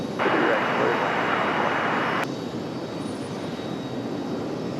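An airplane landing on the runway at Raleigh-Durham airport produces a steady jet engine rush that drops abruptly partway through and continues as a lower roar, with a voice talking over it.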